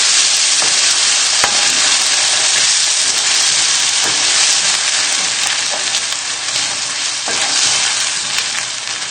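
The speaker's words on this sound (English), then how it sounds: "So just 2 tins of chopped tomatoes. And give it a good stir in." Two tins of chopped tomatoes are stirred into a sizzling fish casserole, a loud continuous frying hiss with scattered scraping and spoon knocks throughout.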